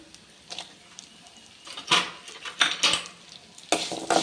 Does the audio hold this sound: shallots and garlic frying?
yes